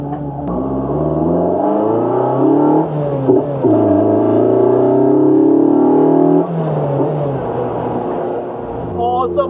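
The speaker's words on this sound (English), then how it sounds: "Awesome acceleration." A road-legal Lotus 340R sports car accelerates hard from the cockpit, its engine note climbing in rising sweeps, easing briefly, then pulling up again, loud and close, with a voice talking over parts of it.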